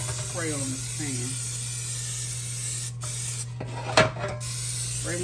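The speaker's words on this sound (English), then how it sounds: "I'm going to put a little spray on this pan." A short hissing burst of cooking spray onto a pan near the four-second mark, with a steady low hum and a few faint voice-like sounds earlier.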